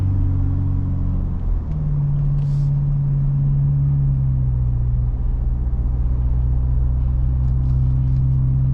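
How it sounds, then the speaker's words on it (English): A 2021 Roush Ford Ranger pickup engine drones steadily from inside the cab, its low hum shifting pitch as it accelerates uphill, with road rumble underneath. "Give it some gas to go up this hill here."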